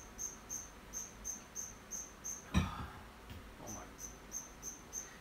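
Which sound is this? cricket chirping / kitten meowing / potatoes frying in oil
cricket chirping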